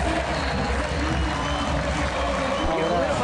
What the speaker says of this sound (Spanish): va a haber ovación porque se va a retirar